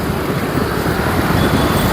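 Dense road traffic on a crowded street forms a loud, continuous wash of engine rumble and tyre noise from cars and buses, steady throughout with no voices standing out.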